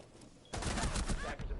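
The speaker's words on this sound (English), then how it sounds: "Couple shots land, couple shots miss." Gun battle in the video game Mole vs Savage, with a dense burst of rapid gunfire beginning sharply after a quiet start and continuing loud and sustained, with a few brief gaps near the end.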